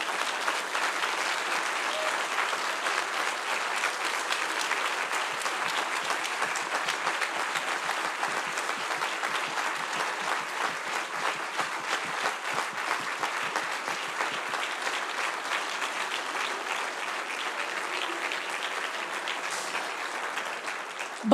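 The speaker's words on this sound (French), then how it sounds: "je vous invite à les applaudir tous ensemble" An audience at the Hera Awards 2022 proclamation ceremony claps steadily, a dense, even wash of applause from many hands that holds at a constant level for the whole stretch, with no voices over it.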